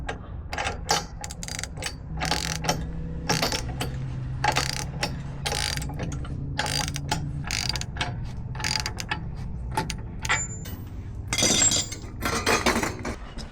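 A ratchet tightens bolts on a BDS 3-inch lift kit for a 2024 Ford F-250/F-350 Super Duty, giving repeated bursts of close, sharp clicking with brief pauses and a few metallic clinks between them.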